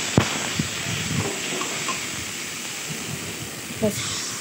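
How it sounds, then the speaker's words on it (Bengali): Potatoes with tomato sauce, ginger paste and green chilli paste sauté in a pan with a steady close hiss and a few sharp utensil taps over the sizzle. "একটু টমেটো সস, দিয়ে ভালো করে কষাবো"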